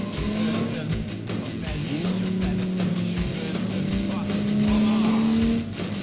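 Car driving uphill in second gear at about 65 mph in BeamNG.drive, its engine holding a loud, steady drone with rising pitch and occasional tyre noise, close and continuous throughout.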